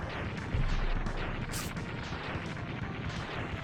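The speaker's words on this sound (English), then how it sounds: "Watch how fast I can shoot without using my hands." Rapid buster fire from Mega Man in the game Mega Man X2, a dense run of punchy shots over game sound, loud and continuous with one bright burst partway through.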